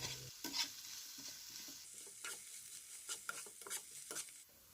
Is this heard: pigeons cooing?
no